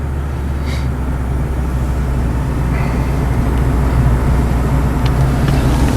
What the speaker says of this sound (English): Get that rattling? I don't know what that is